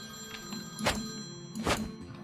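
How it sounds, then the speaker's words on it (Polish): A telephone inside a church tabernacle rings twice in the video game Priest Simulator, two short separate bursts over a quiet background. "Telefon dzwoni, odbierz."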